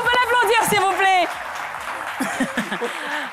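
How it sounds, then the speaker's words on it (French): A French television studio audience applauds during an evening show, a brief burst of clapping that rises as a host's voice trails off and then carries on under further talk. "Est-ce qu'on peut l'applaudir, s'il vous plaît?"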